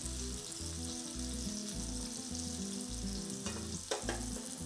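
Venison backstrap searing in hot oil with a paprika beef rub, a soft steady sizzle heard close and low in level, with a few brief bursts of crackle near the end, no talking.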